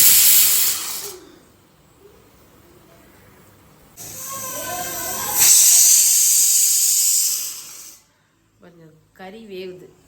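Steam hissing in bursts from a pot of mutton biryani as the meat cooks, loud sharp hisses that stop and start, with a voice talking between them.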